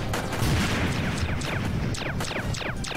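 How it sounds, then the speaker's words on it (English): Cannons and gunfire in the toy-army video game Attack On Toys keep up a dense, loud barrage of repeated blasts and crackling shots with no pause, filling the whole stretch. "The cannons are doing work."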